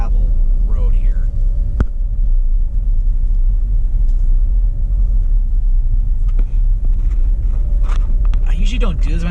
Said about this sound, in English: There'll be some vibration in the gravel road here.